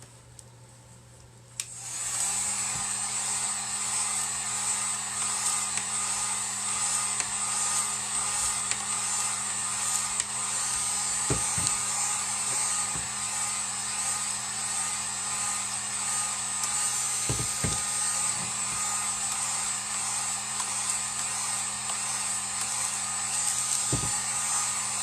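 A hair dryer runs steadily and loudly for the whole stretch after clicking on, drying the edges of a stenciled wood mirror, with a few faint knocks underneath.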